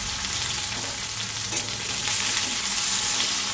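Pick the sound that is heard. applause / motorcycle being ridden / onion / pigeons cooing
onion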